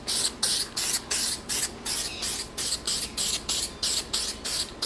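An aerosol spray paint can hisses in a steady series of short bursts over car parts, each spurt lasting a fraction of a second with brief gaps, close and fairly loud with no voices.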